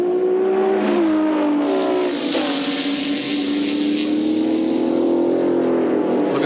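Touring cars racing at Calder Park, where a nearby engine roars loudly and steadily while its pitch climbs and falls as the car shifts and revs, and no talk is heard.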